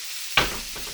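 Butter hits a hot cast iron skillet with a steak in it, giving a sudden sharp sizzle burst that fades into a softer hiss.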